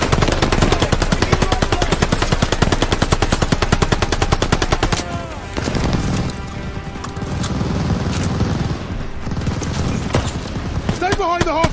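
Sustained machine gun fire from a Call of Duty Vanguard battle, rapid and loud in a steady rhythm for the first five seconds, then continuing under dense gunfire and battle noise with shouted voices.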